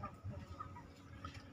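Chickens clucking softly as they are let out of their coop, a low burst of fowl sounds close by with no talk over them.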